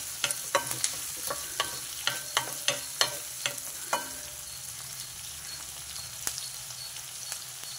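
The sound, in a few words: onion and green chillies sautéing in pan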